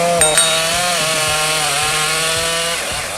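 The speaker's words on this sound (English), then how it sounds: "the process of cutting down a 70-year-old mahogany tree using two Stihl MS-651 and MS-382 chainsaws" Stihl MS-651 and MS-382 chainsaws cut through a 70-year-old mahogany tree, a loud continuous high whine close by with slight pitch dips as the chain bites into the wood.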